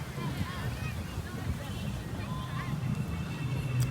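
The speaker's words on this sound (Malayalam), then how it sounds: "നല്ല കാറ്റ്" Wind blows steadily through an open park in a low, continuous rumble that buffets the microphone for the whole stretch, with faint background voices.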